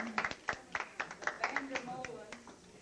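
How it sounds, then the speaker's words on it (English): A round of applause from relatives at a family reunion, scattered claps spread across the moment and mixed with voices talking over them. "Let's give them a big round of applause."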